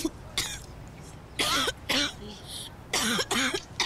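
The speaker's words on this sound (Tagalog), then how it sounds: "Inuubo na naman kayo." A person coughs in several sharp, harsh bursts spaced across a few seconds, close by and fairly loud, with throat-clearing between them.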